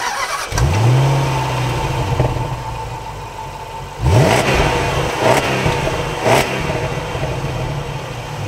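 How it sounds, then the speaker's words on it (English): A Range Rover L322 with a 5.0 litre V8 revs up sharply, settles to a burbling idle, then blips the throttle twice more, loud and close with no talk. "This 5-litre V8 is breathtaking, honestly."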